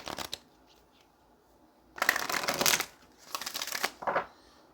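Tarot cards riffle-shuffled in close, crisp bursts: a brief flutter, then two longer shuffles with a short tap between, alone in a quiet room.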